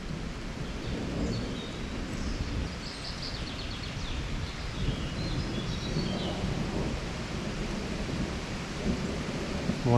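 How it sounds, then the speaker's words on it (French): Heavy rain pours steadily outdoors beside a small river, a dense continuous hiss that fills the whole stretch, with a faint bird chirping far off and no voices. "Bon là la pluie par contre, je crois qu'on est en plein dessous."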